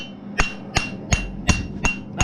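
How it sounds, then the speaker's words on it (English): A hammer strikes hot metal on an anvil in one spot, drawing the stock out wider before punching a hole: six sharp, evenly spaced ringing blows about a third of a second apart, loud and close. "I am not moving my hammer. I'm hammering in one spot."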